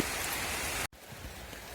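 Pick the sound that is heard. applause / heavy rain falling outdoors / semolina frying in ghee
heavy rain falling outdoors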